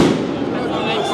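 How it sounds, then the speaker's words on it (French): Firecrackers go off in a dense, continuous crackling barrage during a Paris taxi drivers' protest, loud and close, filling the whole moment. "Non mais les pétards là, dommage."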